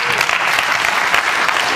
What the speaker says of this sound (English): Almost every lady clapped except for Karen.